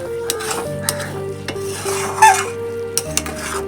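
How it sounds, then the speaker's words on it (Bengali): A pot of moong dal and ash gourd ghonto being stirred, with a spoon scraping and clinking against the pot in several separate strokes over a soft, steady sizzle. The sound is close and moderately loud. "এবার নেড়ে দেব।"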